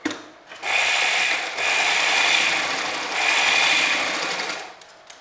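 A sewing machine runs steadily, stitching fabric for a girl's skirt and jacket in two long, even whirring runs with a brief pause between them, close and clear.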